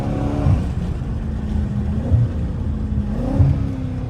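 A hoodless Dodge Challenger Scat Pack 392 V8 accelerates hard on a highway, with a loud steady engine roar that climbs through the gears at about three upshifts, heard from inside the car.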